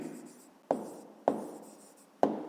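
Pen or chalk strikes sharply three times at irregular intervals while a math solution is written out, each tap followed by a soft scratching trail, close and fairly quiet.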